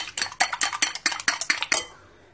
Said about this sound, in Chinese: 直接就在鸡蛋里放盐，然后把它打均匀